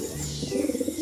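A pigeon coos in the forest, giving a short, soft, low warbling call close by against a steady background hum.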